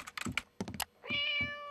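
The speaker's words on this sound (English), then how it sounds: "It's a cat video, Benson." A cat meows in a cartoon cat video: a long, clear, drawn-out meow follows a few quick thumping knocks, loud and close with no talking.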